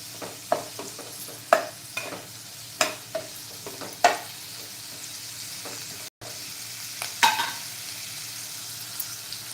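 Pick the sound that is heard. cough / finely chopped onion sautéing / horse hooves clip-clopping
finely chopped onion sautéing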